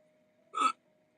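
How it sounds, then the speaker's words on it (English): A single sharp hiccup from a woman during a live tarot reading stream, brief and fairly loud against a quiet room with a faint steady hum. "I'm gonna have the hiccups for like hours."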